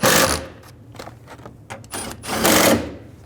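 Ratcheting as bolts are run down on a window regulator inside the front passenger door of a 2002-06 Chevy Avalanche: rapid, close, mechanical clicking bursts that start loud, stay moderate in the middle and swell again near the end.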